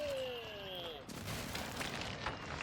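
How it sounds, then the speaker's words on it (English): An airstrike in Call of Duty DMZ: a descending whistle of incoming ordnance gives way to a sudden loud burst of rumbling explosions that keeps crackling and booming to the end. "I called the airstrike."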